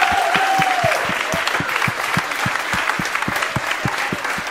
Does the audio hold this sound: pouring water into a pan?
no